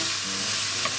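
Pork belly frying in its own rendered fat in a pan while being stirred, giving a steady close sizzle with a soft scrape near the end, for a garlic rice dish.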